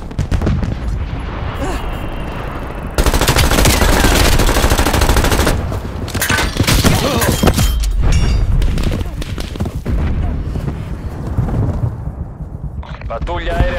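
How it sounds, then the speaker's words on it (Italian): Enemy artillery and gunfire in Call of Duty Black Ops Cold War, a dense, loud, continuous barrage of rapid shots and booming impacts that pauses briefly near the end, with voices heard among the din. "Artiglieria nemica in fase di tiro."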